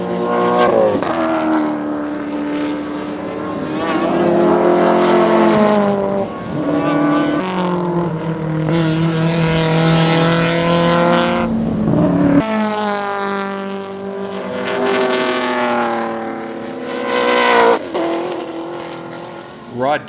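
Loud engines of Improved Production racing cars roaring and revving on the Baskerville circuit, pitch rising and falling as they accelerate past, with an announcer talking over the noise throughout.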